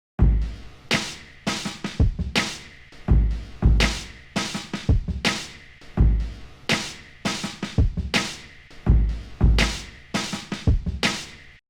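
A hip-hop drum track with brush-like rubbed snare textures and airy fills between punchy kicks and snares, looping steadily and loud with no voices.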